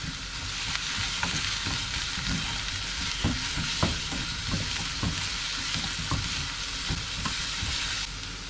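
Beetroot pickle base sautéing in a pan, a steady broadband sizzle with intermittent stirring scrapes and clicks throughout, fairly loud and continuous with no voices.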